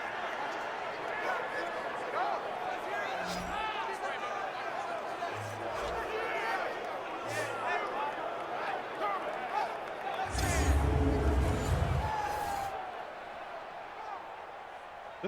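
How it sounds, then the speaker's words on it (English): Stadium crowd noise in an arena football simulation game during a late-game two-point conversion: a steady roar of cheering and babble with a louder swell near the end, under continuous play-by-play commentary. "Listen to this crowd now."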